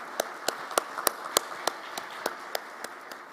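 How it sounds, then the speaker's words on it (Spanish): Sparse applause from a conference audience after a technical presentation, about a dozen distinct claps spaced irregularly, fairly faint and thin, as from a few people. "Por favor, un voto de aplauso por su brillante ponencia."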